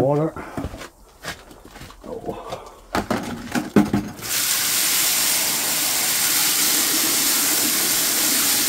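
Water pours steadily in a continuous hissing stream onto a powder suspension after a few seconds of clinks, handling noises and brief talk.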